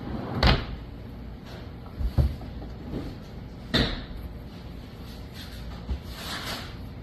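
Drawer in a workshop cabinet where blades are stored, opened and closed with a few separate soft knocks and slides spread across a quiet room, no one speaking.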